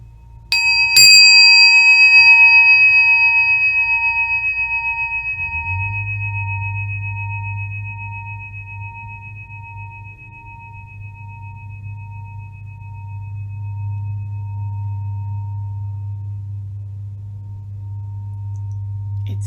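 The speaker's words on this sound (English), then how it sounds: "Let the energy of the bell, the sound of the bell, move your attention to your heart." A meditation bell is struck once, a clear ringing tone that chimes and slowly fades over many seconds, with a low steady hum underneath.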